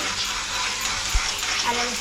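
Prawns fry in a pan on a griddle for a Malvani prawn dish, giving a steady, close sizzle with a brief low knock partway through and no talking.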